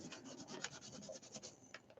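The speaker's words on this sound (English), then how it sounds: "Let's see if I can wipe this up just a little bit more." Baby wipe rubbed over paper to lift acrylic ink set in matte medium, a quiet, steady scratchy scrubbing with repeated back-and-forth strokes close to the mic.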